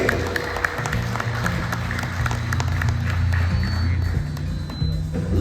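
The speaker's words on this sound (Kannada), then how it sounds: "ಮತ್ತೊಮ್ಮೆ ಬರಲಿ ಜೋರಾದ ಚಪ್ಪಾಳೆ" Audience applause at a JSW Steel and Garodi Steels prize event, a dense, steady wash of many hands clapping that carries on throughout at moderate loudness, with a faint voice beneath.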